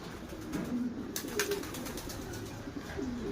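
Pigeons coo softly nearby, low repeated throaty calls over a faint background hum, with a brief rustle midway.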